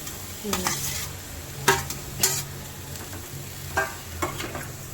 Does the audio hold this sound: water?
no